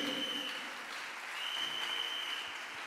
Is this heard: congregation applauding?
yes